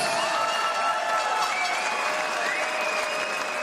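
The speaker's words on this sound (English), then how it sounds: "We get a nice round of applause out here for both of these fighters, please." Applause fills an arena after a ten-round professional boxing bout in San Antonio, a steady dense clatter of many hands with faint crowd cheering mixed in, sustained and fairly loud throughout.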